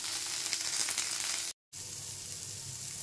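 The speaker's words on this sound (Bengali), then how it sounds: "ঢাঁড়সগুলোকে বেশ ভালো করে ভেজে তুলে রেখে দিলাম" Okra (dhindi) frying in a pan gives a steady close sizzle that cuts out briefly midway and then resumes; no voices.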